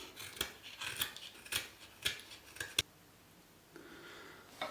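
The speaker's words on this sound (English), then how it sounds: "I'm going to start with the knife, then go over to the rasp" A knife blade shaving and carving a wooden hatchet handle, giving a series of sharp scraping strokes roughly every half second, then a short quiet stretch before one more cut.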